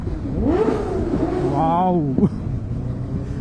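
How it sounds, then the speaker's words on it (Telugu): A superbike engine revs hard near a tunnel, rising and falling in loud, echoing whines from close by, with excited voices talking over the roar. "టనల్ దగ్గర రెవ్ చేస్తే ఆ సౌండ్ వస్తుంది చూడండి"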